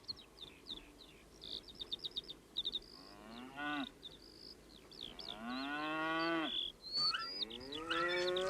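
Cattle on a farm moo several times in drawn-out, rising calls, loud and close, while small birds chirp busily throughout.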